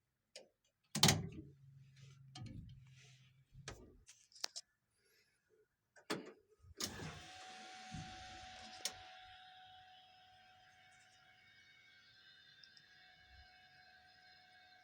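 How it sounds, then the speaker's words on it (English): In a 1962 Chevrolet Impala, a few door clunks and thumps give way to the fuel pump's steady, thin electric whine, which hums on continuously at low level to the end. "That noise you're hearing is the fuel pump."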